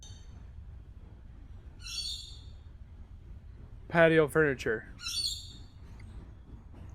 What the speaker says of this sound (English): I think the bird is freaking out.